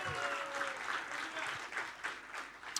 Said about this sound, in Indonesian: Tepuk tangan paling dahsyat buat Yesus